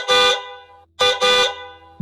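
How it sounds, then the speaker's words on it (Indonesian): A car horn on the Cipularang toll road blares in three loud honks, a long blast, a short pause, then two close bursts, with a low engine hum underneath. "suara klakson terdengar lagi"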